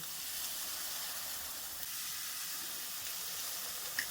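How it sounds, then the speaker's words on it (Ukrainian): Eggplant rolls dipped in thin batter sizzle in a preheated frying pan, a steady bright hiss of hot oil that holds evenly throughout with a small pop near the end. "Обмокуємо і відразу кладемо на сковорідочку. Сковорідка в нас розігріта і вже чекає."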